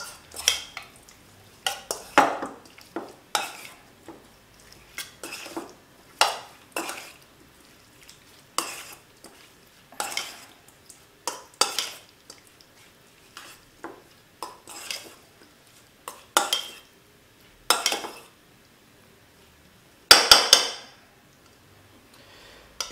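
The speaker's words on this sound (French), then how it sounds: "Maintenant, il ne reste plus qu'à mélanger." Ingredients mixed in a bowl with a utensil, producing a series of irregular clinks and scraping strokes separated by short pauses, fairly close and moderately quiet, with no talking.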